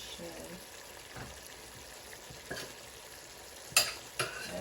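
Sliced fish fries in a pan with a continuous close sizzle, broken by a few sharp clinks and scrapes of a utensil against the pan.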